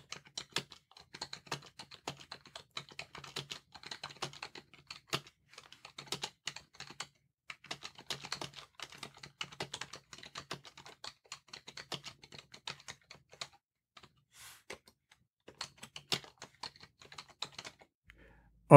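Quick, light keyboard clicks in rapid bursts, pausing now and then before resuming; soft and close, with no voices.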